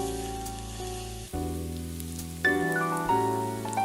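Tomatoes and chopped scallions hit hot cooking oil in a pan and give a steady sizzle, which jumps louder in stages as more goes in. No voices are heard.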